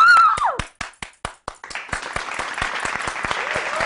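A television studio audience claps, beginning with a few sharp separate claps that quickly fill out into steady, dense applause continuing to the end.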